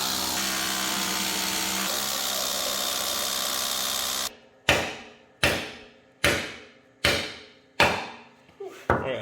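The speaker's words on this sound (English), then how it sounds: "He's about ready to drill all of the holes" A power drill runs steadily for about four seconds while boring holes to install a car lift, then a series of five or six sharp, evenly spaced strikes ring out, each decaying quickly.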